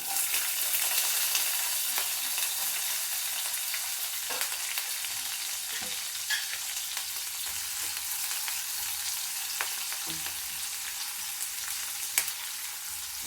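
Finely chopped onions fry in a pan for a thotakura kadala curry, giving a steady, fairly soft sizzle with occasional faint clicks from stirring throughout.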